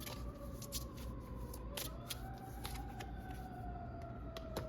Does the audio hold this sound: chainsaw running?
no